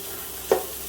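Garlic, ginger and textured vegetable protein frying in a pan over low to medium heat, a steady soft sizzle broken by one brief scrape of the mixture being stirred.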